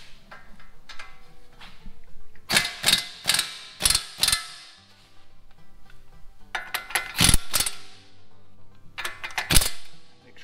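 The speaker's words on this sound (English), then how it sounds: "trusty speedy torque wrench and tighten that up to about 15 ugga-duggas" A torque wrench ratchets as it tightens a new tie rod end's castle nut on a 2009 Dodge Avenger, sounding in close, loud bursts of rapid clicks separated by short pauses, with light mechanical handling between them.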